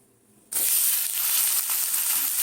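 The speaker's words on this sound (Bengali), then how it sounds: "এই দেখো কড়াইতে রিফাইন তেল দিয়েছি। প্রথমে আমি পেঁয়াজটা দেব," Chopped onions dropped into hot refined oil in a kadai, bursting into a loud, steady sizzle that starts abruptly about halfway in and stays constant, with no voice over it.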